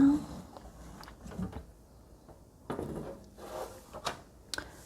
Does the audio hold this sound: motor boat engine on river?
no